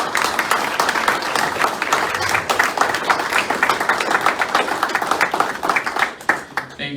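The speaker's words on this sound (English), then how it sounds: "How about we get a round of applause for our candidates real quick?" An audience at a local city council candidate debate in Morris claps for the candidates, giving dense, sustained applause for about six seconds before it tapers off.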